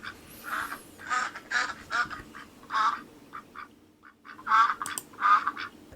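A duck quacking sound effect, a run of nasal quacks in an irregular rhythm, loud and close with short pauses between calls and no talking.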